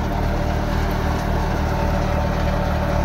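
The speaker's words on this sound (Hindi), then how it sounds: "ट्रैक्टर की आवाज़ सुनो" A tractor engine drives a jugaad-modified thresher at speed, giving a loud, steady low drone with a constant mechanical hum and no change in pitch.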